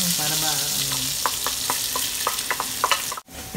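Chopped onion and garlic sauté in a pot as the base for chicken asado, giving a steady bright sizzle with a run of sharp spoon scrapes and stirring knocks, ending in a brief cut.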